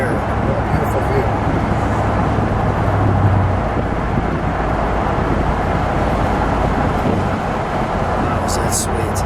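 A 2004 Chevrolet SSR pickup cruising on the road, its steady engine and road rumble filling the cabin while people talk over it throughout.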